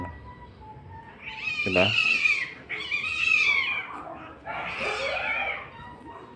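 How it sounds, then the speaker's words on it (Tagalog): Cats fighting nearby during an oil change: loud yowls and caterwauling in three drawn-out rising and falling bursts, with a brief voice heard once. "Nag-aaway na pusa."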